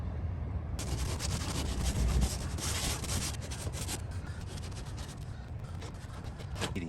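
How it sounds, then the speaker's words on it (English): Steady rasping scrubbing of 80-grit sandpaper rubbed by hand back and forth over a plastic Chevrolet Volt bumper, close and continuous, with no talking. "Now you hit it with some smooth sandpaper"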